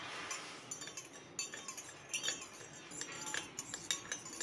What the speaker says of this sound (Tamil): இப்போ இது நல்லா கலந்து விட்டுறலாம்.